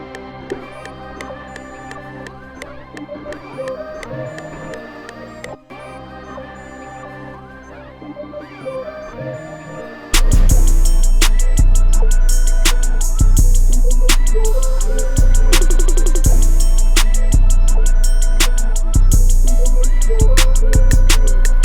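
A hip-hop beat built entirely from dry one-shot samples with no effects: a sparse melodic loop first, then loud punchy drums and booming bass kick in halfway through and drive a steady rhythm to the end.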